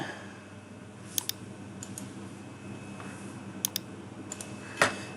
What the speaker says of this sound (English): We click calculate.